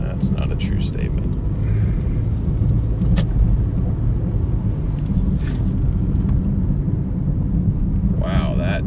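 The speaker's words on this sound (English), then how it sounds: "that truck sounds and looks dead" An old, run-down truck rumbles past, a loud, sustained low roar that holds steady across the whole stretch, with a voice talking over it.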